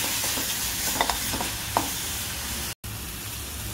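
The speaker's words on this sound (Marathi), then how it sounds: "हे बघा, चांगलं असं परतून घ्यायचं आहे." Asafoetida and spices fry in a pan for batata vada, a dense continuous close sizzle with a few light stirring clicks and a momentary cut near the end.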